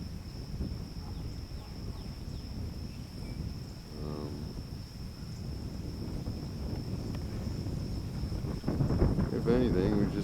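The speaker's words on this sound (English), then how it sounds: "Filming in a kayak in the wind." Steady wind rushes and buffets the microphone on a kayak out on the water, a constant broadband roar that swells louder near the end, with a faint voice briefly heard partway through.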